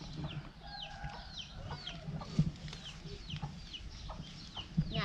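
Chickens clucking outdoors in rural Isan, Thailand, repeated short clucks and calls scattered close by among other birds, with a few louder thumps and faint background noise.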